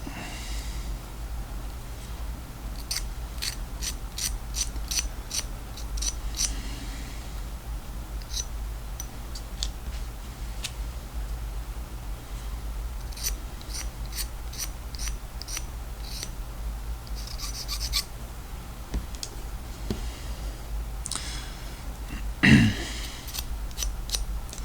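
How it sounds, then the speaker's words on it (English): A craft knife scrapes small parts of a 4mm scale OO gauge buffer stop kit clean, with quick bursts of fine scratchy strokes repeating close up against a quiet background. "scrape them off with a craft knife and just tidies them up a bit, ready to go on"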